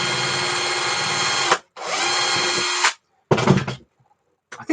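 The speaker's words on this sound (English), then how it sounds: "Let's drill this open again." A power drill works on a Nerf AR-L blaster, giving three loud whirring bursts with short gaps between them and a brief start at the end, close and without talk.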